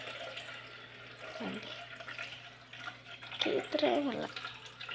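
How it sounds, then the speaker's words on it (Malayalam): Water poured into a sugar mixture while making homemade apple juice, a steady, soft running pour heard under a person talking. "നമുക്ക് കുറച്ച് വെള്ളം ഒഴിച്ച് വെക്കാം."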